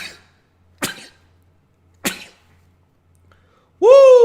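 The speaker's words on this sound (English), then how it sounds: "Woo, that's a lot of sneezing." A man sneezes several times in a row, sharp separate bursts spaced about a second apart, close to the microphone with quiet between them, ending on a drawn-out voiced exclamation.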